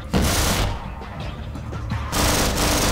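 Rapid bursts of enemy gunfire in the shooter game Half-Life: Source, loud and dense, with a short lull of scattered shots before another heavy volley.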